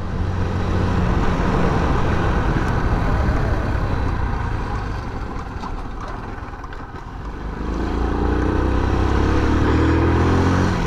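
A Honda Super Cub motorcycle riding along narrow mountain roads near Mt. Akagi in Gunma, Japan, with a continuous close engine drone and wind rush that dips briefly mid-ride before the engine note rises again.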